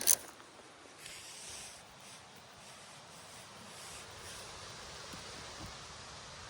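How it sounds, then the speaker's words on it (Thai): Cold wind blows through a forest on a chilly morning, a steady, soft broadband rush with low buffeting that rises and falls slightly, heard alone at a fairly faint level. "อุ้ยเสียงลมได้ยินไหมคะ หนาว ลมพัดหนาวมากอะ"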